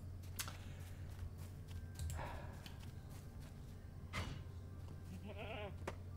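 Goats bleat in Lord of the Rings Online near a stand of poplar wood, one wavering bleat standing out near the end over a steady low hum and faint scattered game sounds.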